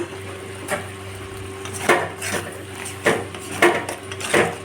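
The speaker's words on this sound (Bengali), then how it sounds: "মশলাটা কষানো হচ্ছে" Spice paste of ground coriander, cumin, salt and sugar being sautéed in a pan for a vegetarian potato and paneer curry, with a spoon scraping and knocking the pan in irregular strokes over a low steady sizzle.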